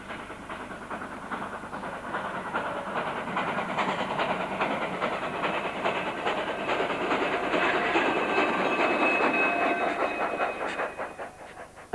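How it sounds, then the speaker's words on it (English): A steam locomotive, number 481, pulls a passenger train away with rhythmic chuffing and hissing, wheels clacking as it builds, steady and moderately distant, no voices. "number 481 departed with the passenger service"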